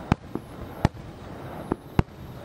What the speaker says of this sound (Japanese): 村の花火は静寂に包まれた中で花火の爆破音だけが響き渡ります。